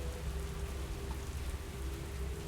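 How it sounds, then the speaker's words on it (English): Heavy African downpour: dense, continuous rain pattering on surfaces with a deep low rumble, steady and enveloping throughout, no voices. "Ah, here's the lovely rain. We can hear it."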